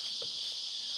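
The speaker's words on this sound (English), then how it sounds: "can you hear the cicadas?" A steady, loud high-pitched drone of cicadas buzzing continuously in Sydney, Australia fills the whole moment with faint low rustles beneath.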